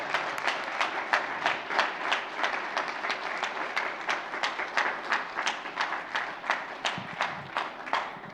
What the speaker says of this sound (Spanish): Fuerte aplauso a nuestro Dios